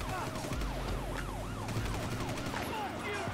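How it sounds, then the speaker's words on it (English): A wailing video-game siren in GTA V sweeps up and down in repeated rapid cycles over a low rumbling engine hum, loud and continuous throughout. "I think it was the actual siren for the place or something."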